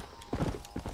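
Horse hooves clip-clop in the Red Dead Redemption video game, a few loud, close bursts of clattering steps after a quieter stretch, with a voice talking over part of it.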